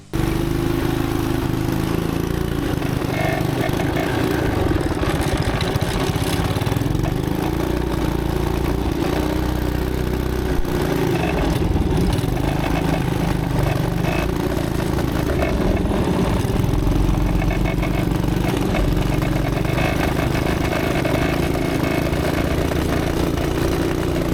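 A small minibike engine runs loud and close for a long stretch, a continuous buzzing mid-pitched drone with slight rises and dips in revs and no voices over it.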